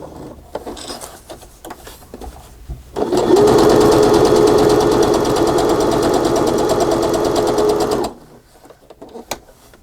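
A sewing machine stitching a fabric tuck page for a spring paper journal runs in one loud, steady, close burst of about five seconds, with quiet handling noises before and after.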